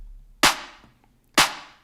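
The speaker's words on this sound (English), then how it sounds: "We've then got this clap which has a fair bit of reverb on it" Two sharp electronic clap hits from a deep house track, each with a long bright reverb tail washing out behind it, evenly spaced and isolated with nothing else playing.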